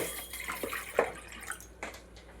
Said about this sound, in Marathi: भांड्यात 1 ग्लास पाणी घालायचं आहे